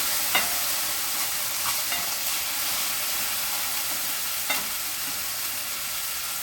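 Seasoned blackened chicken and sausage jambalaya is stirred in a hot pot, with scraping spoon strokes at irregular intervals over a steady sizzle and hiss of frying, close by and moderately loud, with no one talking.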